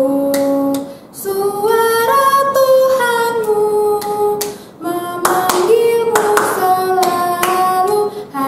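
Children's song with a melodic voice sung over music in a Sunday school class, with bursts of hand clapping falling in with the rhythm at a few points in the song.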